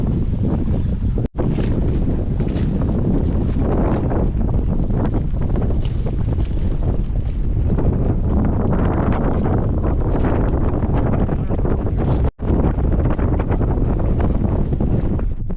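A junk-rigged sailboat tacks upwind as heavy wind buffets the microphone in a loud continuous rush, with water sloshing beneath and two brief dropouts.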